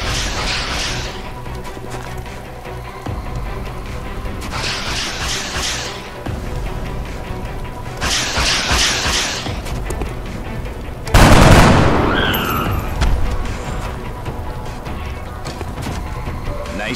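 Video game combat with bursts of gunfire and a loud explosion partway through, repeated rattling shots with a sharp blast near the end, over a steady background rumble.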